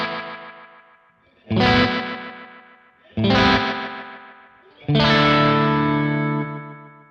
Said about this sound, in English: And here it is with the delay.